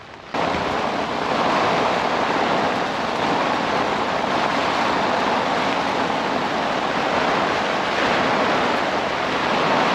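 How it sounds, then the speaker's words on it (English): Heavy rain and strong wind batter a fishing camp at a Norfolk lake, a loud, unbroken wash of noise with gusty rumbling that fills the whole stretch after a brief quieter start. "It's absolutely pissing down."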